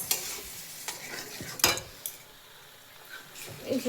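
A spoon stirs oil-free dal with green chilli and coriander in a pot, a soft sizzle under a few scraping and clinking strokes, close and fairly quiet, with a faint voice at the end.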